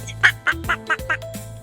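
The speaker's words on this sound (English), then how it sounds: "Duck." A duck quacks five times in quick succession, loud and close, with the calls evenly spaced and no other sound behind them.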